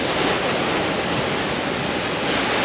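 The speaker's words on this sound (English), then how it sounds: "There's quite a big swell pushing in." A big sea swell surges onto the shore at Ogmore-by-Sea, heard as a steady, loud, unbroken rush of surf with some wind noise and no distinct individual breaks.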